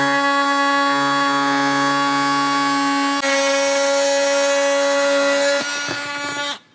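A power tool cuts freehand through the grille section of an Ironman 4x4 front bumper for a 2022+ Toyota Tundra, giving a loud, steady high-pitched whine that shifts pitch midway, then winds down at the end.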